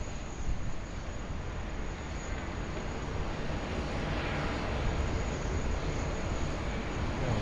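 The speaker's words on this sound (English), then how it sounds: "Jetstar taking off there." A Jetstar airliner taking off at Sydney Airport, heard as a distant, even rumble of engine noise that stays steady and fairly faint throughout.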